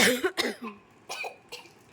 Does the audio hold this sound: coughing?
yes